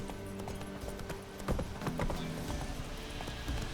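Roach the horse galloping in The Witcher 3: Wild Hunt, a steady rhythmic clip-clop of hooves that is fairly close, with a few louder hoof strikes and faint mechanical game sounds beneath.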